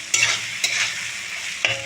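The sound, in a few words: stirring onions frying in oil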